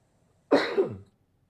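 A single short, close cough breaks an otherwise quiet moment, lasting about half a second.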